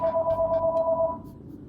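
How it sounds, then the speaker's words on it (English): A telephone rings with a steady electronic warble of rapid pulses, one ring burst lasting about a second and then stopping, clear and fairly close with no voices over it. "Phone just started ringing."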